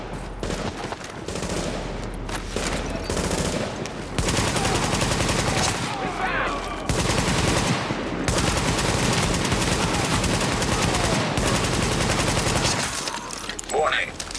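Automatic gunfire in The Division video game crackles in dense, sustained bursts amid a busy game soundscape, with brief lulls and a synthetic warning voice over the action.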